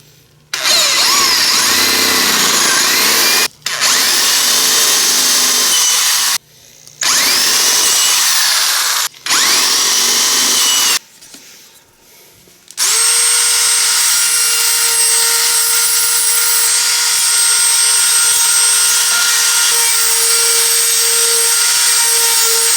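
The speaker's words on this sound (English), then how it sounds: "drill some holes, and then I'm going to Dremel out the rest of it" A power drill whines loudly in several bursts separated by short pauses as it drills holes, then a higher-pitched Dremel rotary tool runs steadily and continuously.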